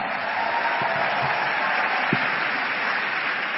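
Steady crowd applause, a dense even wash of clapping that holds for a few seconds without a break.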